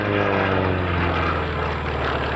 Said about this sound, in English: In comes the final action's Wildcat.